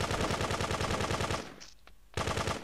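Rapid dual-pistol gunfire in Grand Theft Auto 2, a dense, loud stream of fast shots that breaks off briefly into a quieter gap before the volley resumes.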